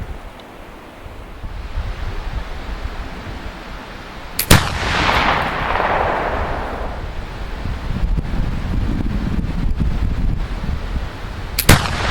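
Two loud, sharp shots from an 1800 Pattern Baker flintlock rifle at an outdoor range, spaced several seconds apart, with a hissing burst after the first and steady wind rumble throughout.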